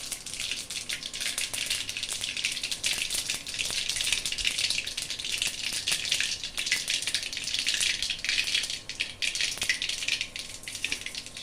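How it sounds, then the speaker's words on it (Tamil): Mustard seeds crackle and splutter in hot oil, a dense steady hiss of tiny pops that fills the whole stretch at close range with no voices. "கடுகு போட்டிருக்கோம்னா கடுகு பொரியட்டும்"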